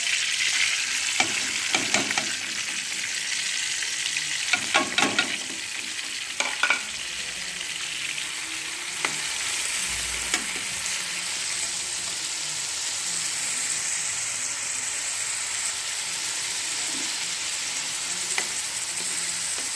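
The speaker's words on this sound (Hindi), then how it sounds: "कढ़ाई हमने रख दी थी और ऑयल भी डाल दिया है। और अब हम इसमें डालेंगे प्याज।" Onions fry in oil in a karahi for chicken karahi, a steady bright sizzle throughout with several clattering stirs early on, close and without speech.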